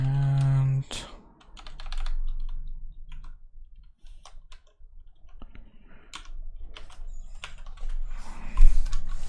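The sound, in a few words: typing on a computer keyboard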